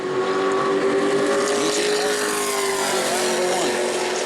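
A Sportsman division race car on a qualifying lap at New Smyrna drones loudly and steadily, the engine note holding a sustained pitch with slight wavering as it passes, continuous and close.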